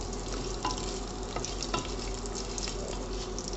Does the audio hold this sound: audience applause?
no